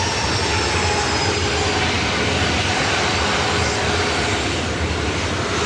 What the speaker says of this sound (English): Delta 737 will be taking off to Seattle.